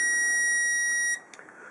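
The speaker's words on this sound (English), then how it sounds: "the inverter is already beeping" A 300 watt power inverter running from a car battery beeps a low-voltage warning, a loud, steady high-pitched electronic tone that holds for about a second and then cuts off, followed by a brief faint chirp.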